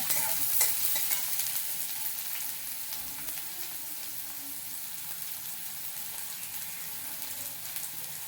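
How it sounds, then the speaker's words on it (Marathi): Onion frying in a pan with mustard seeds and cumin spluttering, stirred with a spoon for kande pohe, a constant close crackling sizzle with faint scraping, slightly louder in the first seconds and without any voice. "मोहरी जिरे चटडायला लागलेले आहेत कांदा टाकला हे आपण सारखा घालून घेऊया"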